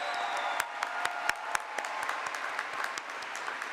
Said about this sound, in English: Please give our stage guests a round of applause